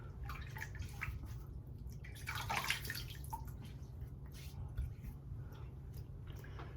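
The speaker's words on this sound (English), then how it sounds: "Let me put some warm water on my face" Warm water splashed onto a face before a wet shave, giving soft close dripping and splashing sounds over a low steady hum, with faint murmuring.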